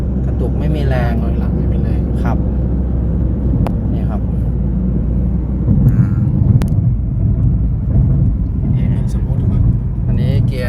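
A Ford Focus 1.6, recently repaired for jerking and losing power in gear, idles with a steady low engine rumble. People talk over it throughout.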